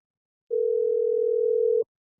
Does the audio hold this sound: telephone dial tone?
yes